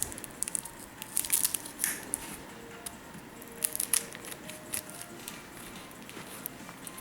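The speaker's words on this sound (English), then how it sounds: "Guess I need some more tearing here." Comic book packaging being torn open by hand, with a scattering of short crinkly rips and rustles clustered in bursts, close and fairly quiet, without talk.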